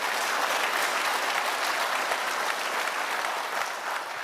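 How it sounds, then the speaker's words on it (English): A large crowd applauds steadily, a dense continuous patter of clapping that holds at an even volume throughout. "So let's give all of our top dealers in our company a huge round of applause"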